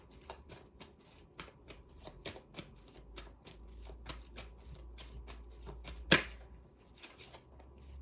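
Tarot cards being shuffled and drawn at close range, producing a run of quick, soft, evenly spaced flicking riffles with one sharper snap partway through, quiet and without any voice.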